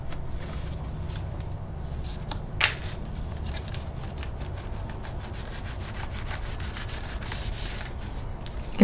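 Tarot cards shuffled by hand in a steady, continuous papery rubbing and riffling, close and fairly loud, with one brief sharper snap partway through.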